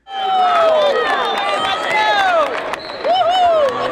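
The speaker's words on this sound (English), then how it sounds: "To grandma cheering." A packed arena crowd at high school boys' wrestling state finals cheers and shouts loudly and without pause, with many voices rising and falling in overlapping yells.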